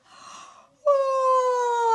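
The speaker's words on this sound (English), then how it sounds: "My mouth lets out a great big" A breathy inhale is followed by a long, voiced, sighing tone, like a big yawn let out close up.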